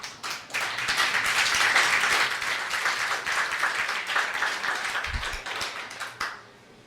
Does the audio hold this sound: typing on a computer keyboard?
no